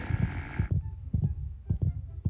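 A heartbeat sound effect from the Lokicraft video game throbs as low, soft double thumps repeating at a steady pace after a brief burst of game noise.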